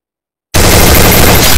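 Gunfire in Garena Free Fire bursts in abruptly after a half-second of silence, then continues as a dense, very loud, clipped blast of shots with no let-up until the end.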